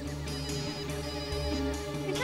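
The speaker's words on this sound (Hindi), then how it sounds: "फोन वहाँ बज रहा है" A mobile phone ringtone plays continuously in a repeating electronic melody, fairly close and steady, with no voices.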